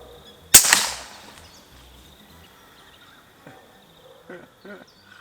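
An FX Impact airgun fires a single sharp, loud crack into a can of shaving cream, followed by a short decaying hiss and a few faint clicks and rustles afterward.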